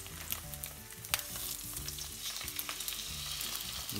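Ling fillets laid skin side down in a very hot, lightly smoking pan, frying with a continuous crackling sizzle broken by small pops. The sound stays steady and close, and nobody speaks.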